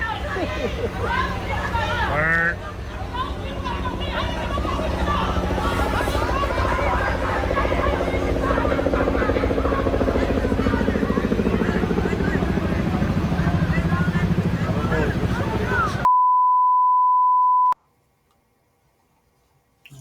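A police or news helicopter flies over the scene of a shooting in Stockton, its steady rotor roar running beneath someone talking, before a sustained electronic beep tone and then silence.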